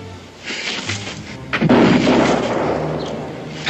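Gunfire in a TV western, a few sharp shots ringing out with echoing blasts and a rumbling tail, fairly close and loud, no voices.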